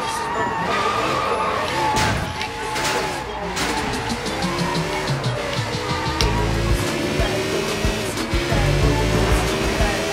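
A motorcycle engine revs and drones in the Sleeping Dogs video game, with rising and falling engine tones over game noise and impacts, fairly loud and continuous.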